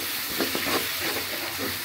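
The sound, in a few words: sambal being stir-fried in a pan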